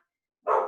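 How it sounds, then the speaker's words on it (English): Dogs bark abruptly in a kitchen during cooking, one or two loud close barks bursting in after near silence. "excuse my dogs"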